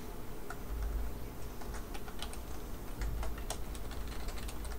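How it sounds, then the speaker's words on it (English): Rapid, irregular clicking of keys on a computer keyboard runs steadily throughout, close and moderately loud over a constant low hum, with no talking. "What are you typing?"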